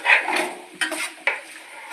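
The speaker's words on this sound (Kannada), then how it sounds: "ಈರುಳ್ಳಿ ಹಾಕ್ಬಿಟ್ಟು ಫ್ರೈ ಮಾಡ್ತಾಳೆ." Onions frying in hot oil in a cooking pot, a steady soft sizzle with a couple of sharp clinks of a utensil against the pan, close and alone with no talk.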